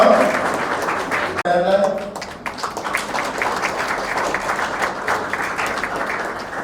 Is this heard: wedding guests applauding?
yes